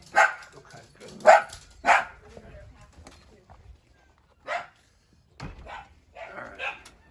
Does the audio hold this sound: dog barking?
yes